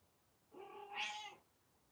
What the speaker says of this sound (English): your cat is pissed off